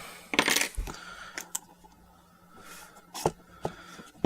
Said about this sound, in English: So we're going to cut the seal.